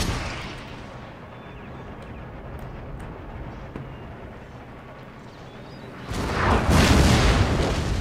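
Mortar artillery fire in the Empire: Total War battle game, with a heavy boom and rumbling blast near the end following a stretch of quieter battlefield din and scattered distant shots.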